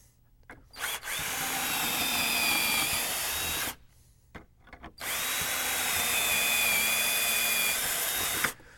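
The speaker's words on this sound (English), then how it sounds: "We'll just take this jig, set it down like this, and drill our holes." Two sustained bursts of a power drill boring hardware holes through a drill jig into a wooden panel, each a few seconds long with a steady whine, separated by a brief pause.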